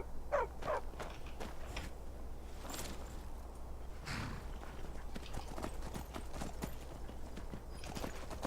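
Hooves of a horse ridden over mountain terrain in the video game Skyrim clip-clop in a quick, irregular trot beneath faint ambient wind, with occasional distant bird calls.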